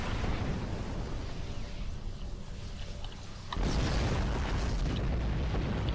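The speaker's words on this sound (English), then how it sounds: "Explosions will damage you, as you saw there." A space combat explosion in the video game Star Trek Online: a steady broadband roar drops slightly, then a sharp burst at about three and a half seconds swells into a louder, denser rumble that holds to the end.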